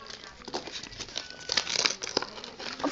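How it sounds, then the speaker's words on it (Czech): Paper crinkles and rustles in short irregular bursts as a small, tightly wrapped item in a paper wrapper is unwrapped close by, with no talking. "když to rozbalíme, až to teda rozbalíme, je to hodně zamotané a je to v nějakém papírku"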